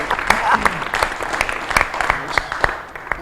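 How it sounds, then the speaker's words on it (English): Audience applause fills council chambers during a committee meeting, a steady patter of many hands clapping at moderate distance with a few sharper claps standing out. "I just wanted everybody to give a nice round of applause"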